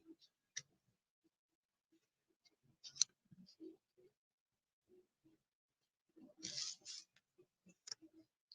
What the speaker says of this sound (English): let me give these a little shuffle and then do the spread for timing